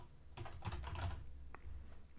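Rapid typing on a computer keyboard, a steady run of close, soft key clicks with a short pause near the end before a few more keystrokes.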